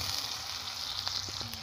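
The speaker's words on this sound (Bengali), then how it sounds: "কেটে রাখা টমেটো খুব ভালো করে আমি ভেজে নেব।" Chopped tomatoes fry in a pan with a continuous close sizzle and a couple of faint stirring clicks near the end.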